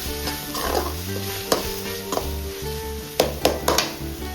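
Chicken masala for a drumstick chicken curry is stir-fried with pepper and cumin powder, a close sizzle punctuated by sharp ladle scrapes and clanks against the pan, with no talking.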